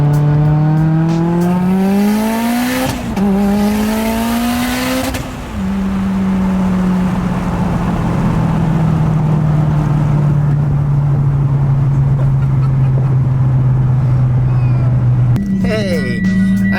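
A loud, close engine revs up twice with rising pitch, then settles into a steady high-pitched drone; a voice speaks over it near the end.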